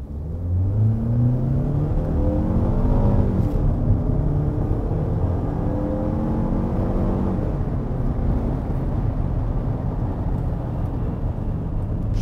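Changan CS95 2-litre turbocharged engine accelerating hard in Sport mode, a loud, steady close-up engine roar with rising pitch sweeps as revs climb and gears change, continuous throughout with no talk.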